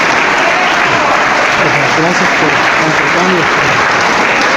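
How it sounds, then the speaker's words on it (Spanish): Loud, steady applause from an audience at a religious debate, filling the room without a break, while someone briefly speaks over it. "Aplauso fuerte, fuerte, que se oiga,"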